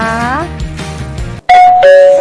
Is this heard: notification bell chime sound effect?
yes